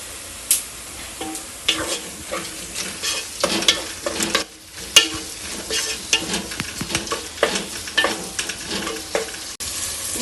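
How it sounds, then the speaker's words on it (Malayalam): Curry being stirred in a pan, a close series of irregular scraping and clinking strokes of a spoon over a soft, steady sizzle, with no talking. "ഇനി ഇത് ആവശ്യം ഇങ്ങനെ ഇളക്കുക, നല്ലോണം മിക്സ് ചെയ്യാം."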